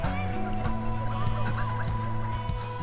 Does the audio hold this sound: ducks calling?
yes